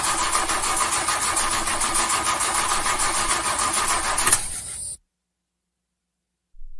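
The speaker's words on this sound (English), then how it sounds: "Please work car engine." A car engine cranks in a rapid, rhythmic churning without catching, then cuts off abruptly into silence before a faint sound returns at the end.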